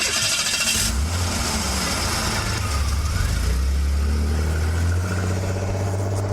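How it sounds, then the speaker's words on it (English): Car engine running steadily as the vehicle drives on slowly along a road in the Ozark Mountains of Missouri, a continuous low rumble throughout with broadband road noise. "I got into the car again and drove on slowly."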